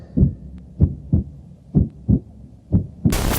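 A mother's heartbeat as heard from inside the womb: six muffled, deep, evenly spaced thumps close and alone, ending in a burst of noise.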